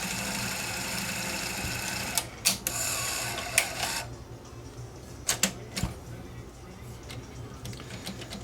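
A tape deck's mechanism ejecting: a continuous mechanical whir cuts off, followed by several sharp clicks and clunks spread over a few seconds, close and moderately loud with no voice.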